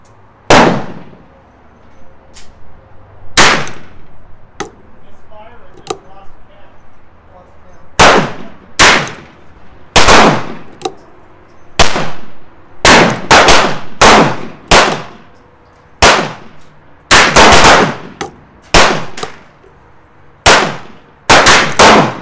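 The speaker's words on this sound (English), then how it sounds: "And now six shots to test the CCI ammo for real." A Ruger Wrangler revolver fires CCI ammunition at a 15-yard range, a series of loud, sharp, close reports separated by short quiet pauses, each with a quick ringing decay.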